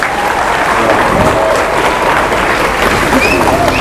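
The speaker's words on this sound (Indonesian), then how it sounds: "Pak Menteri BUMN, Pak Sufi, tepuk tangan dulu." Applause for a visiting government minister at an earthquake-affected site in Tarutung, loud and steady from a close crowd throughout, with faint voices mixed into the clapping.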